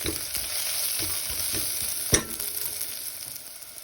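Green chillies fry with onions in a hot pan for Goan ivy gourd bhaji, giving a steady close sizzle broken by stirring scrapes and one sharp clack of the spoon, with no voices.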